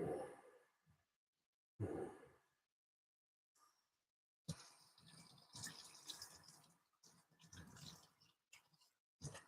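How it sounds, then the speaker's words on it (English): Hands being washed under a running tap, with short bursts of flowing, splashing water broken by pauses, then a longer stretch of continuous water and rubbing, loud and close. "I'm just gonna wash my hands quick and get this stuff off."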